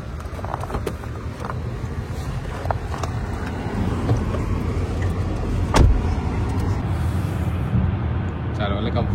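A car driving on a toll road in cold weather, a steady low road and engine rumble with some wind noise throughout, with people talking over it.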